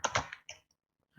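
Typing on a computer keyboard comes as a few quick clustered clicks, then a brief pause and one more faint keystroke. The sounds are close and quiet, with no talking.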